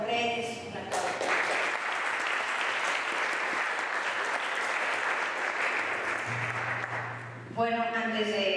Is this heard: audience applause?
yes